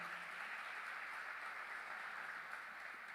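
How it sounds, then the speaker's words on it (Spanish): A church congregation applauds in a sustained, even wash of clapping with no voices over it. "Dele un fuerte aplauso al Señor."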